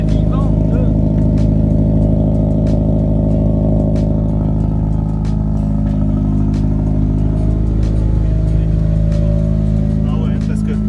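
A Honda car engine runs after a clutch slave cylinder repair, a loud steady idle with a deep rumbling hum filling the whole stretch, while people talk faintly over it.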